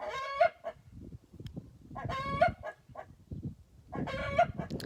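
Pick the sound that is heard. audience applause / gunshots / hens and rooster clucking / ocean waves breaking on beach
hens and rooster clucking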